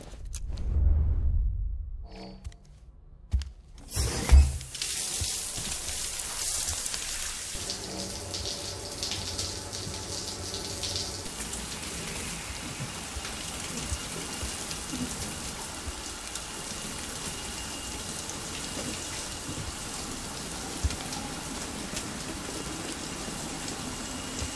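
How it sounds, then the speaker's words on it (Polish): A shower runs in the video game Death Stranding: a louder burst of splashing water opens, then it settles into a steady, even hiss of falling spray that continues for about twenty seconds. "Weź prysznic."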